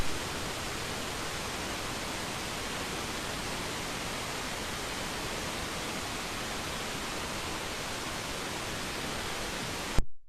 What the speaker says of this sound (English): So let's hear with this wind noise.